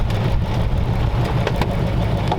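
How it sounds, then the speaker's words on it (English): A 1932 roadster's engine idles with a mild, steady exhaust rumble, close and continuous with a low throb and no revving. "Exhaust is nice and mild, Ella."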